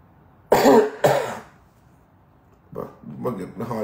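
A person coughs twice in sharp, loud bursts, then after a pause clears the throat or coughs again in a rougher, drawn-out series, close to the mic.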